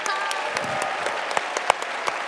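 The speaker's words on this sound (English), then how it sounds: "Give them a round of applause." A conference audience claps briefly, a moderate burst of scattered applause with individual sharp claps standing out, at modest loudness.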